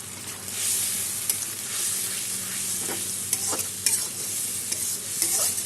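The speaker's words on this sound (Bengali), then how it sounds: "সব আমি একসাথে এখন কষিয়ে নেব।" Ground cumin, coriander, turmeric, chili powder and sugar being stir-fried in a pan for a Bengali vegetarian kakrol curry, a steady soft sizzle with intermittent scraping and stirring clicks, fairly quiet and close, with no talking.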